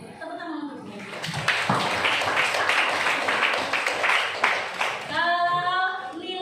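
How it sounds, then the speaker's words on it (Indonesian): Classroom of students clapping for a classmate after she stands and answers a math question, a dense burst of applause lasting about four seconds, with children's voices talking before and after. "Tepuk tangan untuk dia."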